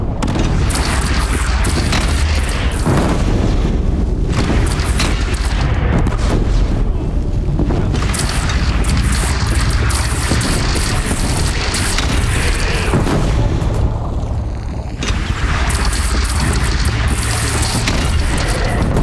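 A bridge in the game Horizon Zero Dawn is shot down and blows apart, giving a long, loud, continuous rumble of explosion and collapsing debris with deep booms throughout and no speech.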